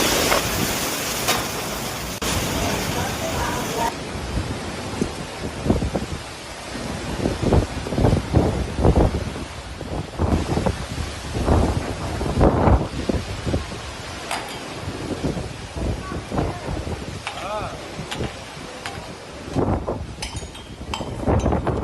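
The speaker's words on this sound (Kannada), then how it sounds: "ಆ ಗಾಳಿ ಹಾಗೂ ಮಳೆಗೆ ಪ್ರಕೃತಿ ಕೂಡ ಎಂಥ ಪಾಡು ಪಡ್ತಾ ಇದೆ" A storm with strong wind and rain in Uttar Pradesh, with gusty wind roaring and buffeting the microphone, rushing rain, and occasional clinks and rattles of loose objects.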